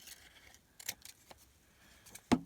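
Scissors cut Christmas paper embellishments, giving a few sharp, isolated snips close by with quiet pauses between them and a crisper final cut.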